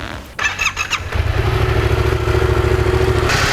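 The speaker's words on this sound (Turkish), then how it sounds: "Şimdi motoru tekrar çalıştırıyoruz." A motorcycle engine cranks with a few rapid clattering bursts, then catches and settles into a loud, steady idle with a faint whine, close by and without talk.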